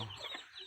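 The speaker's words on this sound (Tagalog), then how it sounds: "mga Bisayang manok" Brief, faint clucking from Visayan native chickens, a few soft throaty notes heard from a short distance.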